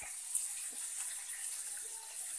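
Water is poured into a pan of turmeric spice mix for a pumpkin, potato and chickpea curry, a soft, steady trickle running for about two seconds at low volume.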